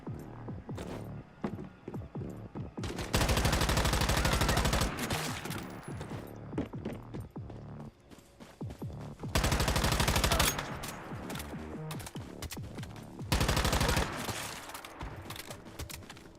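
Repeated bursts of automatic gunfire from a first-person shooter game such as Once Human or Warzone, three long loud sustained volleys separated by scattered single shots and game noise.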